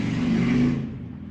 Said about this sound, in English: Motorbikes, they are very loud.